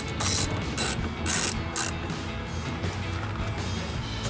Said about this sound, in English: take a 10mm and a 3/8 drive. Just loosen each one of these up one by one.